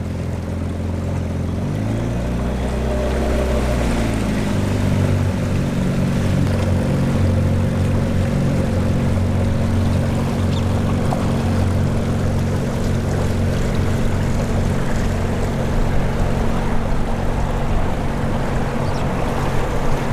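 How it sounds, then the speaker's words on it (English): An outboard motor running on a small Craig Cat catamaran boat in the Florida Keys, a steady close droning engine hum with a pitch shift early on, then continuous low rumble alongside water and wind noise. "Motor's running."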